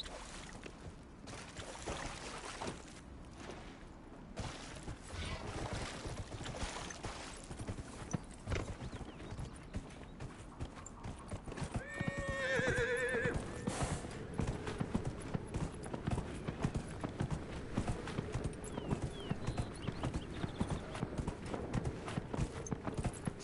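Rhythmic clip-clop of horse hooves plays steadily in the video game Dragon Age: Inquisition, joined midway by a loud neigh, with splashing and rumbling ambience underneath.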